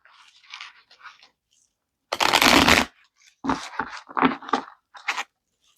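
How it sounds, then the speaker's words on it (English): Cards are riffled and shuffled close up: light scattered flicks, one long loud riffle, then several quick bursts. "One more shuffle."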